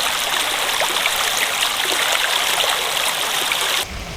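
Clear stream water flowing steadily on a road trip through Madha, Oman, a close continuous rushing and trickling wash that cuts off abruptly near the end.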